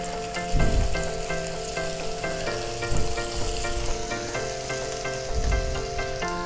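Chicken pieces fry in hot oil over a medium flame, a steady close crackling sizzle with a few louder bursts of spatter, no voices.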